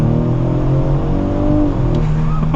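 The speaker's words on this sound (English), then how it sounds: "So we're gonna get our acceleration here with the Explorer." Ford Explorer ST accelerating hard in sport mode, a loud, steady engine roar with rising harmonic tones as revs climb, heard from inside the cabin without talk.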